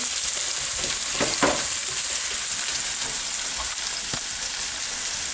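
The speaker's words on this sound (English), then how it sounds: "And we frying them like same like for oysters till they're golden brown." Steady, loud frying sizzle of honey mushrooms in a hot pan, crackling continuously with a few brief utensil scrapes; no voices.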